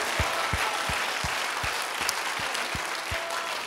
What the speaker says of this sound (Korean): 박수 박수 박수 박수 박수.